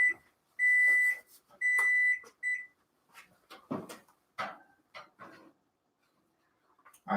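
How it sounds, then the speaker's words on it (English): Electronic kitchen timer beeping while cupcakes bake: a few sustained high-pitched tones in a steady run at the start, followed by scattered kitchen clatter and handling noises. "my timer's going to go off in a minute"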